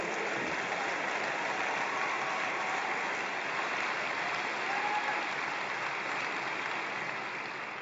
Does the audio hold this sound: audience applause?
yes